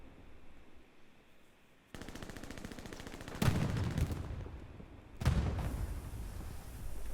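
Rapid bursts of gunfire crackle through a World War II video game battle at Omaha Beach, with repeated machine-gun volleys and louder surges of shooting over a steady din of combat.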